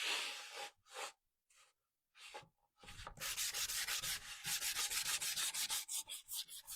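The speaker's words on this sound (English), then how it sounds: "That is some fine sandpaper" Fine 400-grit sandpaper rubbing over real wood in short bursts at first, then a quick steady back-and-forth sanding rhythm, close and soft.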